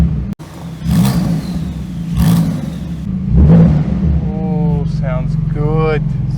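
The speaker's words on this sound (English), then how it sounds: "If I touch the revs a little bit, ooh," Engine of a 2018 Porsche GT2 RS revving briefly in short blips, a loud low rumble rising and falling, with people talking over it.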